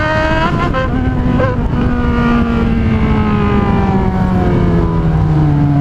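A loud, droning Yamaha XJ6 motorcycle exhaust roars close by, its pitch sliding slowly downward as the motor eases off, steady and unbroken throughout.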